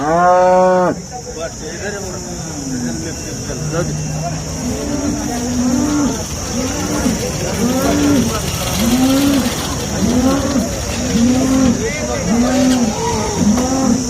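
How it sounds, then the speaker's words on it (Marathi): Cows moo repeatedly in the heat at a cattle market in Sangola, long rising and falling calls one after another, close and loud over a steady background hum. "आज बघा उन्हाची उष्णता असल्यामुळे गाय कशा ओरडत आहेत"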